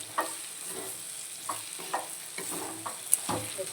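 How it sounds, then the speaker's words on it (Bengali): Fried potatoes tipped into a cooked-down spice masala in a pan for a Bengali banana-flower dish, with a steady oily sizzle and repeated sharp stirring scrapes of a spatula, close up with no talking. "আলুটা দিয়ে দিচ্ছি।"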